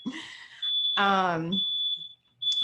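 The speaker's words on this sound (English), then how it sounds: "Sorry, our smoke alarm's going off." A household smoke alarm emits a steady high-pitched electronic tone, sounding through most of the stretch, continuing under a voice and briefly cutting out near the end.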